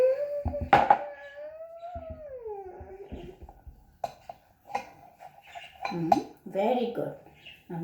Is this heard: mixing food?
yes